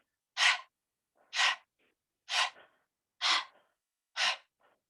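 Five forceful nasal breaths from a pranayama breathing exercise, sharp close exhales spaced about a second apart in a steady self-paced rhythm, with quiet pauses between them.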